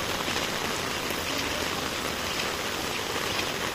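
Steady, dense hiss of heavy rain pouring down continuously on the IIT Roorkee campus, with no pauses and no voices.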